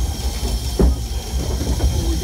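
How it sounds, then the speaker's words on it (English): A steam locomotive runs at Bressingham Steam Museum, its exhaust beats rising as periodic chuffs over a steady hiss and low rumble of the moving train, heard close and fairly loud. "With the beautiful exhaust, this engine sounds very unique"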